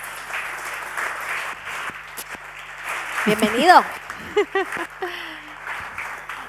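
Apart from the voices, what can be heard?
audience applause welcoming speaker David Alayón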